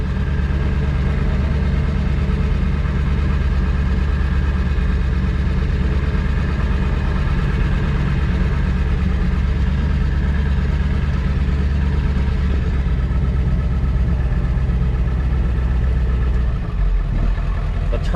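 2000 Ford F-550 with a 7.3 Powerstroke diesel and ZF6 manual transmission driving slowly around a parking lot, steady loud low engine drone heard from inside the cab throughout, with a slight shift in tone near the end.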